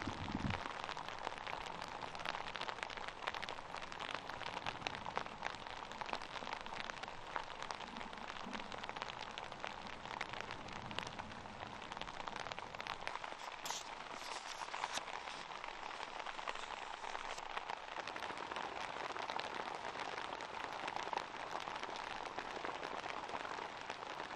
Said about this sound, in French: Dehors, il pleut.